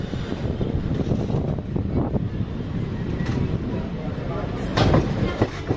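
Passenger train running along the track near Moradabad, a steady low rumble with rail noise throughout and a louder gust of wind or passing clatter near the end, recorded close from on board.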